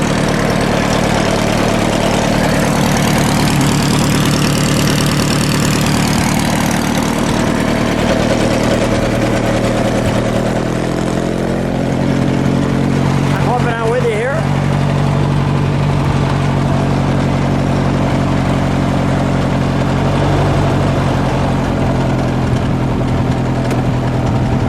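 A 1913 Bugatti Type 22 engine idles loud and close with a steady low, throbbing rumble that holds throughout, a brief mechanical rise near the middle, and no talk.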